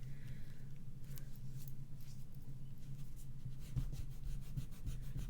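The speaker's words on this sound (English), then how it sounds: "So let's rub that out quickly." Soft, steady scrubbing of an eraser rubbing out light pencil marks on paper for a handmade waterfall accordion mini album, a continuous close rasp with faint bumps and no voices.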